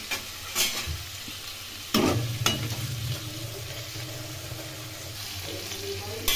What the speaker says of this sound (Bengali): সাদা জিরে ভেজে নিয়ে এর মধ্যে আলুগুলো দিয়ে একটু ভেজে দিচ্ছি।